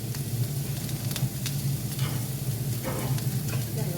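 Vegetables with mustard seeds frying in a pan for baingan bharta, a steady close sizzle with scattered pops and soft spatula strokes as they are stirred.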